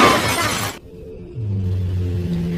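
A car crashes during an illegal street race in a film: a loud burst of shattering glass and impact noise cuts off abruptly, then a low engine rumble rises and hums on.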